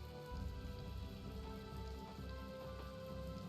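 Rain falls in the video game Tales of Vesperia, a steady patter of drops on surfaces, even and continuous at moderate loudness, with no speech.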